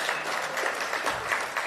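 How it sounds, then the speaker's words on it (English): Round of applause from the audience at a BMX Hall of Fame induction ceremony, a steady dense wash of clapping that fills the whole short moment without voices. "Give them a round of applause."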